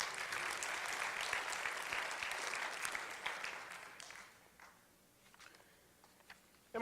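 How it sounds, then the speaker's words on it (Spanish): Congregation applauding in a church during a sermon, a dense, steady clapping that fills the room for about four seconds before tapering into scattered claps and quiet shuffling. "Dele un aplauso a Él se lo merece"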